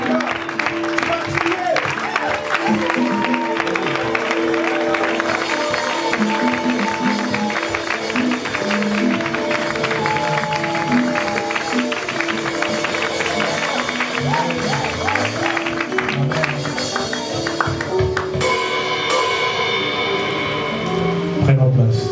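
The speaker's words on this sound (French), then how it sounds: "Acclamons pour le Seigneur" A church congregation at a consecration service claps and cheers, a dense continuous crowd sound, while a loud voice and music run over it throughout.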